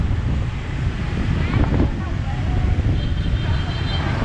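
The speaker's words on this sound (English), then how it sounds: "It's a very windy day," Steady wind buffets the microphone with a constant low roar on a street in Saigon, faint traffic or distant engine hum underneath, no one speaking.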